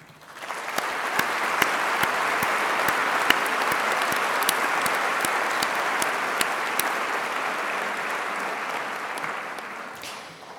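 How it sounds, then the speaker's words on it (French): A large audience at a pharmacy faculty graduation ceremony applauds the new graduates in a long, steady wash of clapping, with a few sharper claps standing out, holding for about ten seconds before tapering off. "on peut déjà prendre quelques secondes pour les applaudir"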